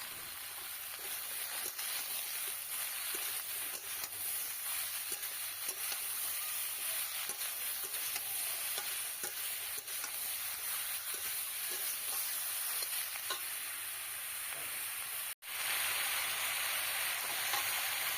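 Bottle gourd fries in a pan with turmeric, salt and green chillies, giving a steady, even sizzle and hiss that runs unbroken throughout, with a brief cut near the end.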